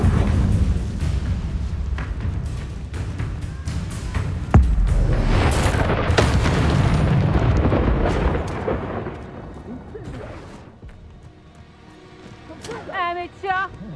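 Confringo spell explosions in the Hogwarts Legacy video game burst as loud, booming blasts with rumbling tails, several impacts in quick succession that fade to quieter game sounds and brief chirping effects at the end.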